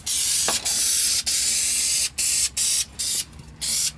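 Undercarriage rust protection coating is sprayed onto the underside of a car in about eight short, close hissing bursts separated by brief pauses.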